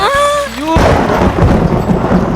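A tonal sound fades out, then a loud, deep crack of thunder rolls on and rumbles steadily to the end.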